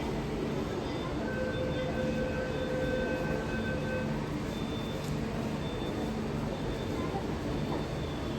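A metro train pulls into a station, a steady loud rumble with a thin sustained electric whine running over it the whole time.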